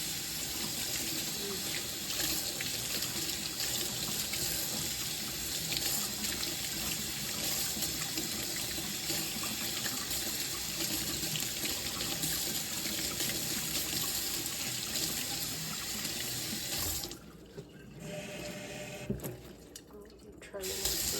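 Fresh garden kale rinsed under a running kitchen tap, a steady broadband rush of water that continues for most of the span, then cuts out and sputters briefly near the end.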